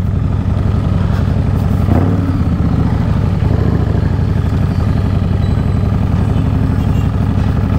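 A Harley-Davidson Street Rod 750 motorcycle engine runs with a loud, continuous low rumble and steady pulsing throb, close up and alone, with a brief rise in intensity partway through.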